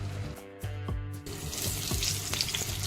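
Stuffed green chillies fry in a covered pan over medium gas, a faint crackling sizzle with intermittent pops and clicks, building into a denser hiss after a short lid-like clatter.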